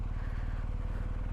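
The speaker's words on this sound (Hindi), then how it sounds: "देखो मैं क्लच से ही बाइक को कंट्रोल कर रहा हूँ" BMW R1250GS motorcycle riding off-road through mud, its engine a close, steady, rapid low thrum pulsing at an even rhythm, with no talking.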